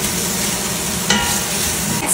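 Hot dog frying in a pan with garlic and onion, steady close sizzle with intermittent stirring scrapes throughout, no talking.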